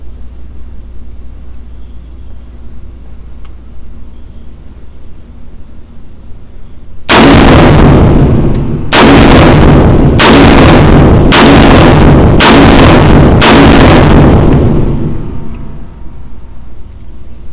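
Five loud, booming gunshots from a POF-USA Rogue 12.5-inch .308 pistol fired outdoors, spaced about a second apart, each with a sharp blast and a rolling decay, after several seconds of quiet.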